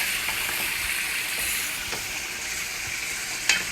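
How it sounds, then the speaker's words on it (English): Khati Khati grilled chicken sizzles steadily in a pan, a loud, close, continuous frying hiss with a few faint clinks and no talk. "we'll let it simmer so that the seasoning will mix up"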